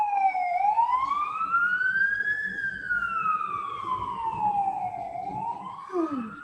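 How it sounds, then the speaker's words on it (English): Emergency vehicle siren wails outside, a single rising and falling tone sweeping up and down over several seconds, moderately loud through a room, with faint background noise. "And again, more sirens."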